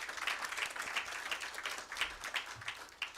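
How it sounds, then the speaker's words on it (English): Audience applause for staff at a microinsurance launch event, a fairly faint, steady patter of many hands clapping with a few sharper individual claps standing out along the way. "Let's give a round of applause for them."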